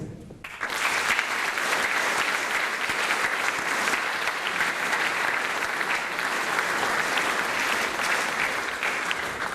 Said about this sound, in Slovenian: velik aplavz za vse nagrajence